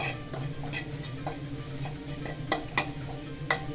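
Red curry paste stir-fried in a pan for a pork rib and papaya curry: a low sizzle with a spatula scraping and ticking against the pan, the strikes growing sharper and louder toward the end.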